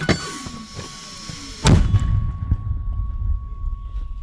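A single heavy artillery boom at about the midpoint, a sharp blast followed by a low rumbling tail, with a steady tone droning in the background.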